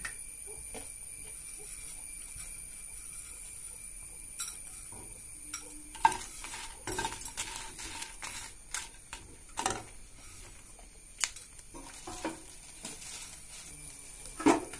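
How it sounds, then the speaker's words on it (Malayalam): Chillies stirred while frying in a pan, with sparse, irregular scraping and clicking strokes and a faint sizzle between them, close up and moderately quiet. "മുളകും അതിൻ്റെ ഒരു വറുത്ത മണം വരുന്നത് വരെ ഇങ്ങനെ ഇളക്കണം"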